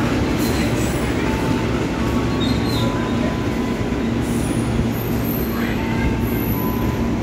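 A passenger train moving through Jatinegara railway station in Jakarta, a loud continuous rumble of rolling wheels and rail noise with faint squeals, close by and steady.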